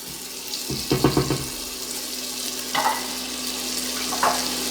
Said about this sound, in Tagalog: napapansin natin na unti-unti na nagmamantika itong pork